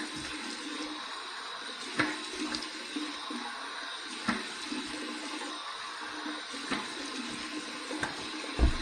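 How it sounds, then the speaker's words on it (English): Warm tap water runs steadily into a sink for a post-shave rinse, a continuous close hiss of flowing water with a few soft splashes and knocks as hands move through the stream. "Here's my warm water rinse."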